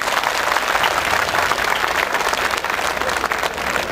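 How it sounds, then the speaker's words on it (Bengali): Loud, sustained audience applause at a university day celebration, dense continuous clapping from a large crowd filling the whole stretch without pause. "খোলা একটা হাততালি যাচ্ছে সকলের জন্য।"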